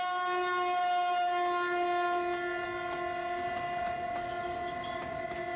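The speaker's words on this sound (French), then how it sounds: "ces trains qui traversent la capitale à longueur de jours et de nuits" A mineral-laden freight train crossing the capital, Conakry, sounds a loud, sustained horn chord that holds steady throughout, with a low rumble of rolling cars beneath it.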